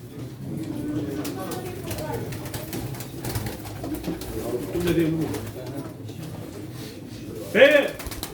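Pigeons coo softly at a pigeon auction in Çorum, beneath a constant murmur of crowd chatter and voices. A sharper burst of calling stands out near the end.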